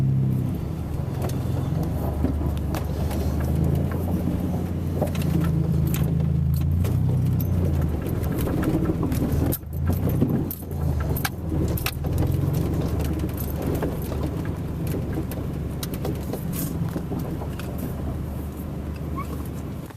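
A vehicle pushes slowly through icy flood water on a road deep enough to strand low-clearance cars, with a steady low engine rumble and continuous sloshing, churning water and a brief dip midway.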